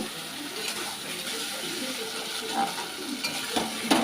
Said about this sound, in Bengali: বেগুন দিয়ে হালকা করে কষিয়ে নেব